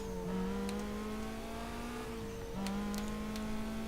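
A Lamborghini Gallardo-style engine in the racing game Need for Speed Carbon holds a loud, steady high-pitched drone, the pitch dipping briefly as if shifting gears, then climbing again, with a few clicks on top and no talk.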